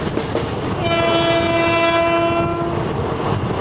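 An approaching train hauled by a WAP7 electric locomotive sounds a long, steady two-tone horn lasting about two seconds, loud and near over continuous rumbling rail noise.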